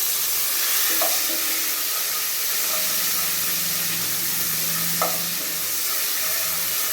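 Medium tomatoes sizzle in a pan while cooking for vendhaya sambar, a dense steady hiss of frying with two brief stirring scrapes near the start and midway.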